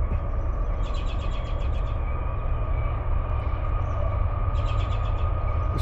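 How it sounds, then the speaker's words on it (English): Steady low rumble of a passing Union Pacific freight train, with a bird chirping in short repeated trills above it. "first train of the day"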